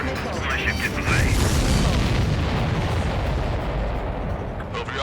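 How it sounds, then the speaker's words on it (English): In the Ace Combat 7 video game, a missile strikes a supply ship, setting off heavy booming blasts with artillery-like thuds and rumbling that swell and hold loud, while radio voices talk over the explosions. "The missile hit the supply ship dead on."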